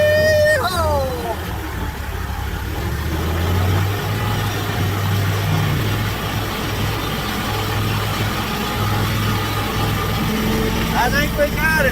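A farm tractor's engine runs hard at full power while pulling a log, a loud low continuous drone whose pitch rises and shifts, with someone talking over it.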